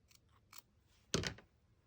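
Scissors snip scraps of red-orange paper into small pieces for stickers, with two faint snips followed by one louder, close cut, then quiet.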